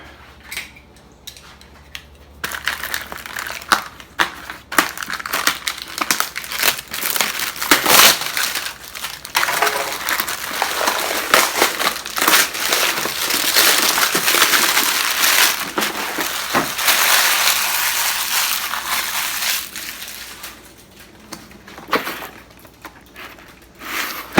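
Steering wheel puller working on a classic Volkswagen bus wheel that has not come off in 57 years, a long grinding, creaking metal crunch with scattered clanks and ticks, heard close and loud.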